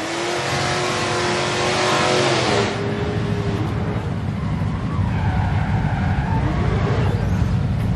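A Dodge Charger R/T engine revs loudly at a large Mopar car show, a strong rising roar for about three seconds that drops away into steady crowd and engine noise.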